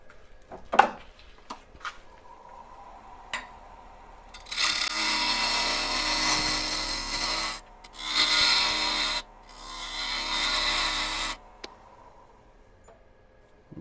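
A bowl gouge cuts a wooden bowl on a lathe, giving three sustained, loud scraping and shaving passes separated by short gaps, after some quieter taps and handling.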